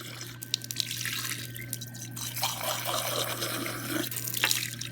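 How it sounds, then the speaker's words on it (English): Tap water runs into a lab container while it is filled and swished around, a steady close splashing and trickling with a faint constant hum beneath and no talk. "I'm going to turn the water on again. Fill this up, swish it around a couple times."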